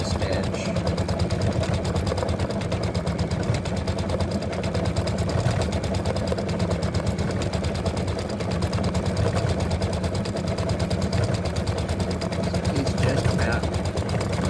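An embroidery machine stitching a freestanding lace Halloween spider, with a continuous rapid mechanical rattle and hum throughout and a voice speaking briefly over it.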